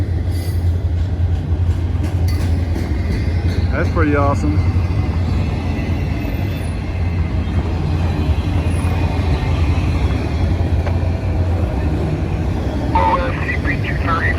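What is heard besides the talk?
two trains passing on a bridge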